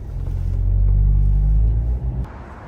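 A car drives along a road, its engine rumble loud and steady, building slightly, then easing off near the end.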